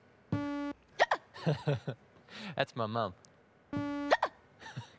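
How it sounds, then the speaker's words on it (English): A woman hiccups loudly twice, each a sharp voiced gulp with a brief tone, separated by playful speech from people nearby. "She's got the hiccups."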